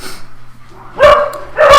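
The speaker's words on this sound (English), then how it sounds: "Apologise for the dogs out there." Dogs bark outdoors in two loud bursts, one near the middle and one at the end, after a quieter stretch with only faint background sound.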